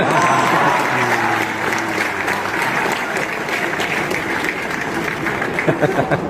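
Audience applause at a Hindi kavi sammelan poetry recital, a dense, steady roar of many hands clapping throughout, with a few low voices mixed in early on.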